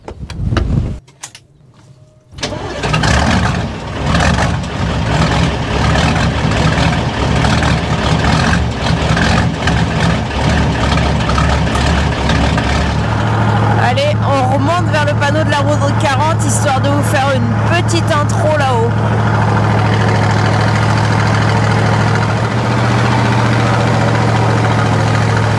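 A vehicle engine idles while warming up, starting after a quiet moment and settling into a steady low rumble, with people talking over it in places.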